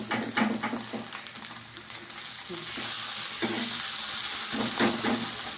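Food frying in a nonstick pan gives a steady sizzle, with stirring scrapes and clinks coming and going throughout.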